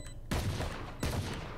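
Two bursts of gunfire from the video game Valorant, each a loud, dense crackle that rises sharply and then decays, with a short gap between them and no voices.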